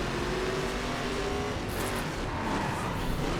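Nissan Skyline race car cornering on snow and ice in The Crew, a loud continuous engine roar with tyre skid noise and a brief bright hiss partway through, no voices.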